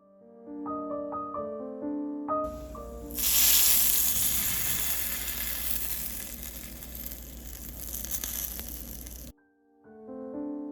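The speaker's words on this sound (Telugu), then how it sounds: "తాలింపు వేగిన తర్వాత చట్నీకి యాడ్ చేసేసుకుంటే సరిపోతుంది" A sharp, loud sizzle erupts as a tempering of spices hits hot oil for red bell pepper chutney, crackling steadily for several seconds before cutting off, with soft musical tones before and after.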